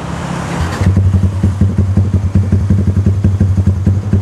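A Yamaha MX King 200cc motorcycle fitted with a Pekajaman exhaust idles close by at the roadside, its steady, rhythmic low exhaust pulse settling in after a brief rev at the start.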